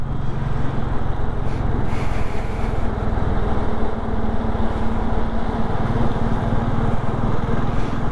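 A continuous loud motorcycle engine drone during a ride, steady and close, with wind rumble and no voices.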